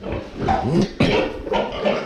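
A piglet about five weeks old, newly weaned, gives several short, close grunts and snorts in quick succession as it is lifted by hand.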